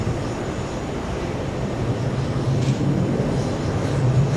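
A KLM airliner taxies at JFK airport, a steady low engine rumble holding at moderate level throughout, swelling slightly in the second half with no talk over it.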